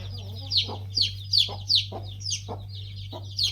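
Chickens and around twenty-one young chicks clucking and cheeping in a series of short, regular calls close by, over a constant low electrical hum.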